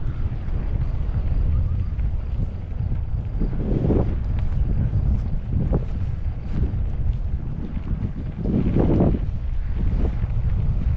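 Strong wind buffets the microphone in a steady low roar, with occasional louder gusts and no voices.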